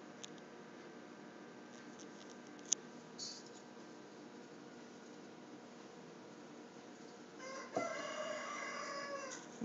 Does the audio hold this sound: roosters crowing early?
yes